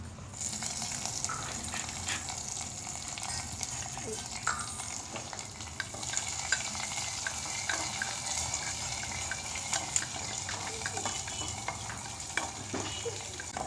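Onions sautéing in a clay pot for meal maker fry, a steady close sizzle and crackle running throughout with occasional stirring clinks and scrapes, no voices.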